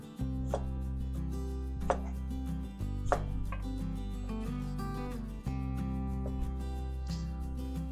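Potatoes are cut into small squares with a knife on a board. A series of separate chopping knocks lands irregularly over a sustained musical backdrop, close and clear.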